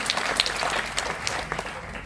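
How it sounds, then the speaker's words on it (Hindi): An audience at a leadership programme event claps in a sustained, moderately loud round of applause, dense and even throughout. "मैं चाहूंगा एक बार जोरदार तालियां सिद्धार्थ और चंचल के लिए"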